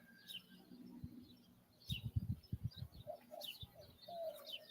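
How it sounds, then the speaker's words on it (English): Birds call outdoors in rural Llano, Texas during a solar eclipse: low dove-like coos pulse in a quick cluster, and scattered higher chirps and tweets come from farther off, all fairly faint against a quiet background. "The birds will be quiet here in a few minutes."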